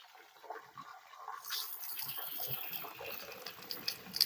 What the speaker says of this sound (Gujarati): મોટર ચાલુ કરી દીધી હવેડો ભરવાનું ટાંકાનું પાણી છે